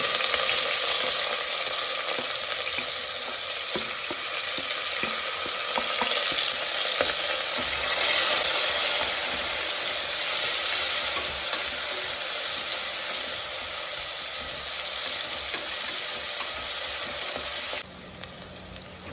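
Chopped onions frying in oil until golden brown, a loud continuous sizzle with scattered stirring scrapes and crackles, close and steady throughout with no talking.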